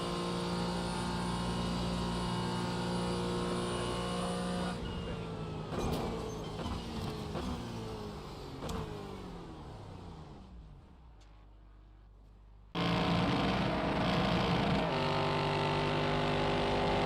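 Race car engines roar at full throttle in a GT4 racing game at Daytona, rising and falling through gear shifts, fading briefly before a loud engine note returns.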